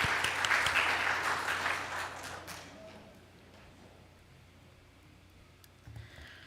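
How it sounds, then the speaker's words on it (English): An indoor audience claps loudly for a couple of seconds; the applause then fades out, leaving quiet room tone with a faint shuffle. "Give yourselves a round of applause because that was good."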